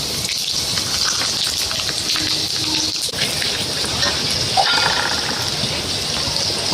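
Cumin seeds hit hot oil with a steady, close sizzle, a dense hiss with faint crackles running evenly throughout and no one speaking.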